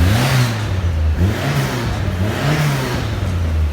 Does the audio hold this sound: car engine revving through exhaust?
yes